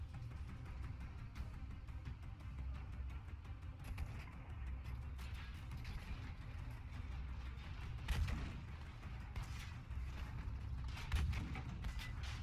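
Heavy tank cannon blasts in Battlefield V, with two deep, booming shots several seconds apart standing out over a constant low engine rumble and scattered distant gunfire.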